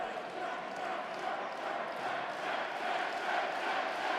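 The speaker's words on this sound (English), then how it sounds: "Fantastic crowd support for Chadburn." A large crowd at a boxing fight roars and cheers continuously at a steady level, a broad wash of many voices filling the space.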